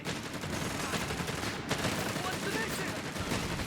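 Machine gun fire in the video game Company of Heroes 3 rattles in dense, overlapping bursts of rapid shots, with one sharper crack near the middle, steady throughout.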